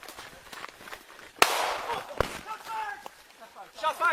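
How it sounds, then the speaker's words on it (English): Gunshots during a police shooting in a rain forest in Hawaii, with one sharp loud crack and a second crack shortly after, followed by brief voices and outdoor rustle. "Moments later, gunfire erupts."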